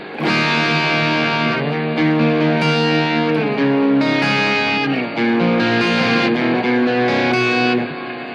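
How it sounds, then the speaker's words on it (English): Distorted electric guitar chords played through an Electro-Harmonix Cathedral reverb pedal set to a long decay, loud and sustained with notes washing into each other, then a trailing tail after the last chord. "or a bigger type reverb."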